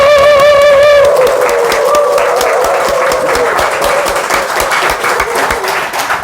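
An audience at a temple's 19th anniversary Sunday service applauds loudly and steadily for several seconds, dense clapping from a large group right after a sung or spoken note fades.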